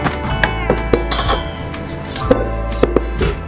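Lock released on an AGARO Royal stand mixer after kneading dough: a handful of sharp, close metallic clicks and clinks at irregular intervals over a steady low hum, with no talk.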